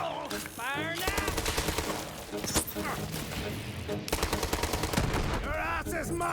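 Sustained automatic gunfire from the video game Borderlands 3 rattles in dense rapid bursts with booming impacts, loud and close, while in-game voices speak over it.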